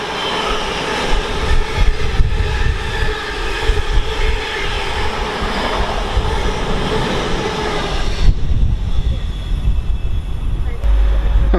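A Pendolino train rolls into Tamworth station on the West Coast Main Line, a loud sustained rumble and whine close by that shifts in tone partway through, with a voice briefly audible.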